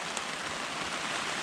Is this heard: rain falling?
yes